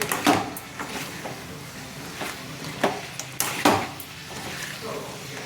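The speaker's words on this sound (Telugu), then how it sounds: "కారం కూడా పచ్చివాసన పోయేంత వరకు వేయించుకోవాలి" A ladle stirs chicken pieces and chili powder in a pan, making irregular metallic scrapes and clinks, some sharp and close, over quiet background.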